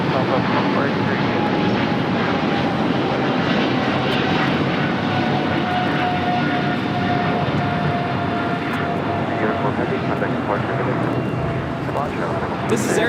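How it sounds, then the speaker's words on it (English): Air France Boeing 777-300ER taking off from LAX runway 25R, a loud sustained engine roar with a thin high whine, steady throughout as someone talks over it. "This is Air France Flight 23 taking off to Paris on a 777-300ER."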